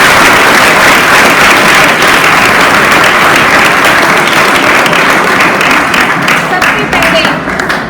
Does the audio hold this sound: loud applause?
yes